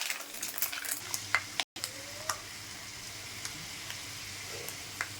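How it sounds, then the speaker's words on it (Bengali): Sago pearls fry in a pan, giving a faint, quiet sizzle broken by light scraping as they are stirred now and then. "আমার সাগু ভাজা প্রায় হয়ে গেছে"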